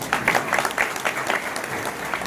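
A gathering at a spiritual satsang and kirtan sermon in Beed claps in a sustained burst of applause. Dense, fairly close hand claps continue throughout and stay loud for the full two seconds.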